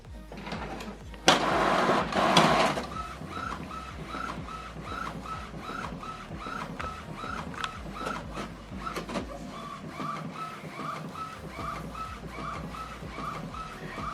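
An Epson WF-3820 inkjet printer runs a ruled line alignment sheet: a brief loud paper-feed whir, then a steady run of rhythmic clicking print-head passes with mechanical hum, close by and without talk.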